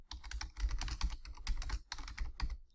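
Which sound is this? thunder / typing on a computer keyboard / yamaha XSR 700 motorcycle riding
typing on a computer keyboard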